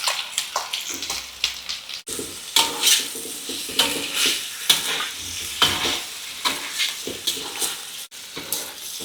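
Sliced onions fry in hot oil while a spatula stirs them through the pan, giving a continuous loud sizzle broken by repeated close scrapes and swishes.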